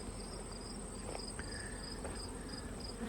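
Honey bees in a nectar frenzy around bulk split boxes: a faint, continuous insect buzz with scattered brief higher whines of individual bees passing near, no voices.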